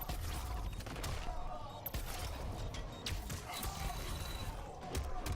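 Cyrax's smart bomb special move in Mortal Kombat X, a dense stretch of crackling, rattling game effects and bursts that carries on steadily for several seconds at moderate level.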